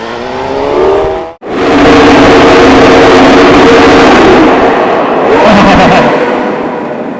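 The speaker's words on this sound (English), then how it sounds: "This bike's making bad noises." A motorcycle engine making bad, rough noises roars loudly up close, briefly cutting out before surging back into a sustained droning rev that swells again toward the end.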